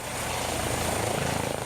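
Gendarmerie EC135 helicopter running up close, its turbine engine and rotor giving a steady, loud, continuous whir with a rhythmic low thump from the blades throughout.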